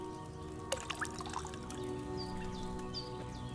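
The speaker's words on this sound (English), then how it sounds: "So, what did you pour in there? Wine, of course." A thin trickle of wine poured from a pitcher into a cauldron in a medieval tavern setting in Kingdom Come: Deliverance II, faint and steady under low ambient room noise, with a few small clinks near the start.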